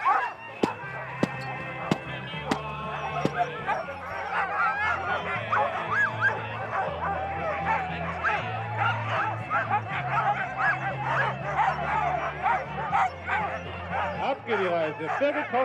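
Sled dogs, huskies, barking and yipping in excited bursts amid a noisy outdoor crowd and talk, the barks fairly close and overlapping.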